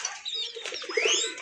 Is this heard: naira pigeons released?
yes